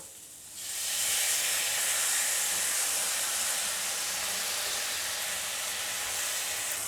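Ground ginger, chili and garlic paste hits hot oil in a pan and bursts into a loud, steady sizzle that holds for several seconds without talk, preceded by a brief quieter moment.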